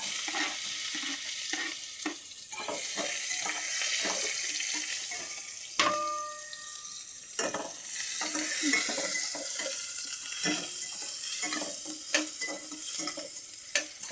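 Onions and cumin seeds frying in a pan, a steady sizzle with intermittent stirring scrapes and clicks of a utensil throughout, close and moderately loud, with a brief tap-like burst midway.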